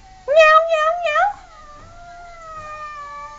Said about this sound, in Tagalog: May pumasok na pusa sa aming mansyon.